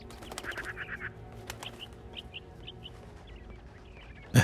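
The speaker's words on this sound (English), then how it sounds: "Hello, birds." Several bird chirps from the Hitman video game, in short bursts spread across the scene over faint background ambience, with no talking.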